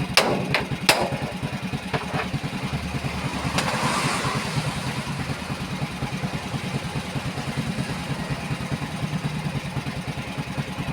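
An old motorcycle engine runs steadily up close, a fast, rough, chugging idle that barely changes, with a few sharp clicks near the start.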